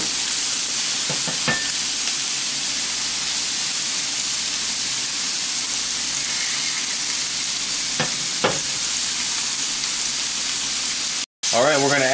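Green beans fry in hot canola oil in a cast iron pan, a steady loud sizzle throughout with a few brief clanks and a voice talking briefly over it.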